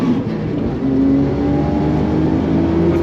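A car engine during drag race practice, loud and close, holding a steady revving drone with rising pitch as it pulls through a gear.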